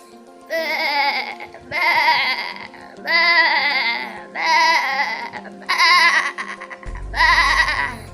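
A voice imitates a goat, giving six wavering bleats in a row, each about a second long with short pauses between them.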